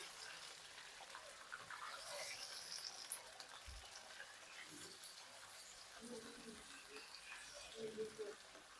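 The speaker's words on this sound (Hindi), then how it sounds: "चिकन को अच्छे से फ्राई कर लेंगे।" Chicken pieces fry in a pan over golden-brown onions while chicken nihari is cooked, giving a steady, moderately loud sizzling hiss with occasional pops and soft stirring, while a person talks intermittently.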